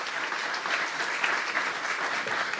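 Audience at a Portland green cities conference applauding the panelists and moderator, a continuous even round of clapping at steady volume with no speech.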